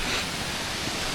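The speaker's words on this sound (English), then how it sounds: "This is Cwmorthin waterfall." Cwmorthin waterfall in North Wales gives a dense, steady roar of rushing water, loud and close, with no other sounds.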